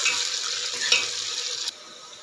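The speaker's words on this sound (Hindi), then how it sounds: "अब हम इसके ऊपर से हरी मिर्च डालेंगे चला दें इसे और दो मिनट तक इसको भी हम भूनेंगे" Green chillies sizzling and frying in a pan while being stirred, a continuous bright hiss with a brief utensil clink partway through, cutting off sharply near the end.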